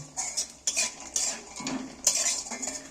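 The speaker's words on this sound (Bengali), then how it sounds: "বাদামটা আমি তেলের মধ্যে দিয়ে দিচ্ছি এরপর আস্তে করে আমাকে ভালো করে একটু নাড়াচাড়া করে ভেজে নেব" A spoon stirs peanuts frying in oil in a pan, giving irregular metallic clinks and scrapes against the pan at close range, with a faint sizzle underneath.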